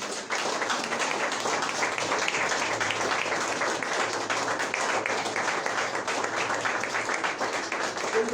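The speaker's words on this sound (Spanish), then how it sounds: "Den un fuerte aplauso." A congregation applauding at a Sunday church service, dense sustained clapping that fills the room at an even level for several seconds without a break.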